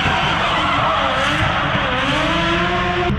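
At night, a drift car slides through a corner with sustained, loud tire squeal over a rising engine note, the screech continuous and close for the whole stretch.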